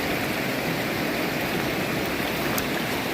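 The lower stretch of the Salmon River near Pulaski, New York, rushes past in a loud, steady, close wash of flowing water that never lets up.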